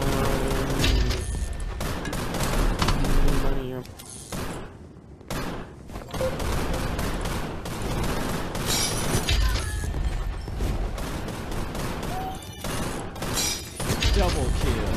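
Gunfire in Gun Raiders VR, with repeated sharp shots and bursts, thuds and crashes across a shootout, under frequent excited talk from a player.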